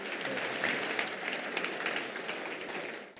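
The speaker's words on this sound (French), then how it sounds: "un tonnerre d'applaudissements à Alain Bagnot" Sustained applause from a crowd at the SITL Europe 2018 innovation awards ceremony greeting the organisation's president, a dense even wash of clapping that tapers off at the end.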